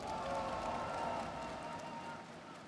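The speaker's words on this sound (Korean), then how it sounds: "박수를 부탁드립니다." Applause and crowd noise fill a hall at a Korean ruling party convention as a new party leader is elected, a steady dense wash of clapping and cheering that fades slightly toward the end.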